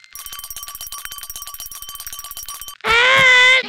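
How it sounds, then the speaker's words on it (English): A cartoon bell in a Smiling Critters animation rings in rapid, bright repeated strikes for nearly three seconds, then gives way to a loud, sustained tonal squeal. "Just ring the bell if you need us, and we'll come running"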